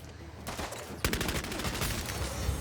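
Bursts of gunfire from the Bloodhunt video game, with a sharp volley of rapid shots breaking in after a quieter stretch and continuing as a fast, crackling string of reports at moderate volume.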